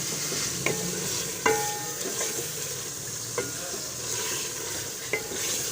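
Onions frying in a pot for chicken curry, a continuous close sizzle broken by a few sharp spoon taps and scrapes against the pot at uneven intervals.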